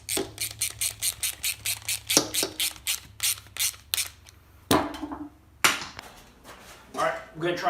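A ratchet clicks rapidly while a pressure washer is bolted back together, a close run of quick rhythmic pawl clicks broken by short pauses and a few louder clunks, with brief faint voice in the background.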